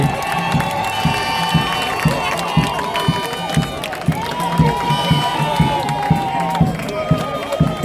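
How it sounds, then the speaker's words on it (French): A crowd cheering and clapping at a diaspora gathering in Brussels for Sindika Dokolo, with shouts and voices mixed into a steady, dense roar of applause that holds throughout. "je nous demanderai d'applaudir encore beaucoup plus fort Monsieur Syndicat"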